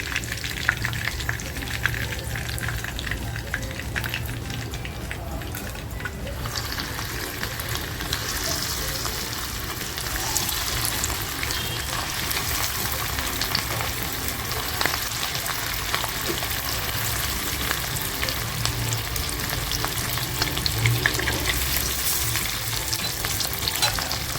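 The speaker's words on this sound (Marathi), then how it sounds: "आपली कोळंबी किती छान फ्राय झालेली आहे" Prawns for chilli garlic prawns fry in oil in a pan, giving a continuous dense sizzle with light crackle and occasional stirring that lasts the whole stretch without talk.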